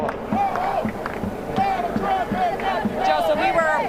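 Protest crowd in downtown Chicago near Grant Park, a dense roar of many voices with rhythmic chanting and shouts rising and falling, close and loud, with impacts and footsteps mixed through the din.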